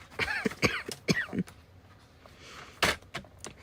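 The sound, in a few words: coughing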